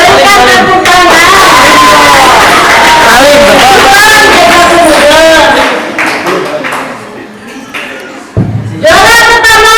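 A crowd at an Islamic boarding school's Ramadan closing and prize-giving ceremony claps and calls out loudly. Busy clapping runs under raised voices for several seconds, thins out, then swells again near the end.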